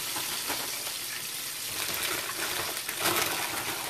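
Fish sizzles steadily in hot fish grease, a constant close frying hiss with scattered crackles and pops and no voices over it.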